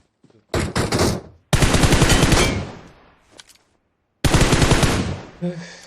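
Loud automatic gunfire from PUBG Mobile comes in three long, close bursts of rapid shots separated by short pauses, with a brief faint flurry in between.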